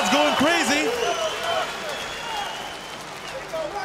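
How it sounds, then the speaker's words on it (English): Roaring crowd cheering at an M-1 Challenge MMA fight between Luigi Fioravanti and Ramazan Emeev, a loud arena swell with whistles and yells that slowly eases off, the commentator's voice talking over it. "The crowd's going crazy."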